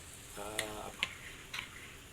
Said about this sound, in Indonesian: aduk kembali dulu biar nggak ada endapan di bawah